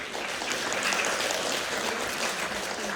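A university debate audience gives a short, steady round of applause, an even wash of clapping with no voices heard over it.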